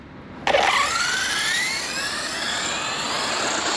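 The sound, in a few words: electric motor of MCD XR5 model aircraft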